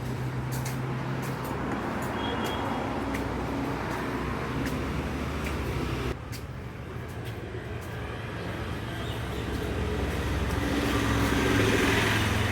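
A vehicle runs with steady engine and road rumble, briefly easing off midway before the noise builds again as it is driven and brought to a stop.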